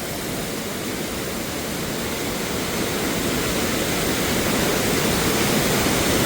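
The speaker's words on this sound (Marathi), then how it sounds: "जोरात आहे पाणी" A waterfall roars nearby, a loud and steady rush of water that holds the same hiss throughout with no voices.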